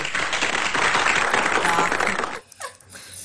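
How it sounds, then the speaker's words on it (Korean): A small group claps in a dense, steady burst of applause during a hands-on review of a toy brick separator, close and fairly loud, stopping abruptly with a few quieter sounds after. "자, 박수"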